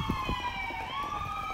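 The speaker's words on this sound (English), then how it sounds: "And there goes the ambulance." An ambulance siren wails in the background outdoors, its rising and falling tone sweeping steadily at moderate distance over faint ambient noise.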